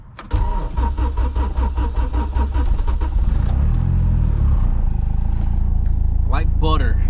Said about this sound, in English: Like butter. E85 cold start.